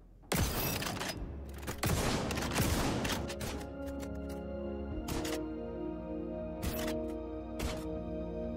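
Shotgun blasts fired at a practice target in the video game XDefiant, several loud booming shots in quick bursts with ringing decay between them, no talking.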